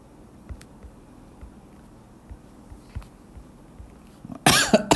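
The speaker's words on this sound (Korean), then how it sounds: "아휴 기침이야." One loud, close cough bursts out at the end of a quiet indoor stretch broken only by faint soft taps, from a person giving a maths lesson.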